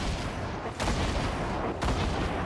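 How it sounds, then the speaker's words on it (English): Grenades explode in the Fortnite video game, with loud, heavy booms close at hand, each followed by rumbling debris. Two sharp blasts stand out about a second apart. "I'm just gonna throw nades at them."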